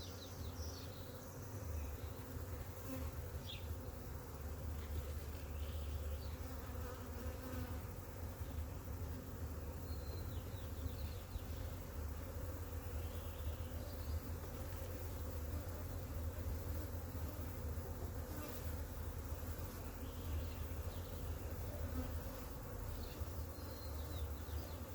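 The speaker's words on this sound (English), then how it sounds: "these bees are not happy" Agitated honeybees swarm around an open hive during a split inspection, a dense, steady buzzing drone that stays loud and close for the whole stretch with no talking.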